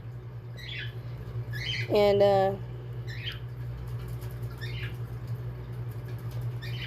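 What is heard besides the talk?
birds calling in the background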